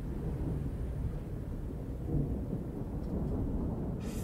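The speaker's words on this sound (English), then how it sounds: "Thunder." Deep, rolling thunder rumbles steadily through a dark metal song, a heavy low roar that swells slightly midway and holds without a break.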